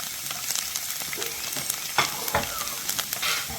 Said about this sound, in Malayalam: അതും നമ്മുടെ വെളുത്തുള്ളിയും കൂടെ ഇട്ട് ഇതൊന്ന് ആദ്യം വറുത്ത് കോരിയെടുക്കണം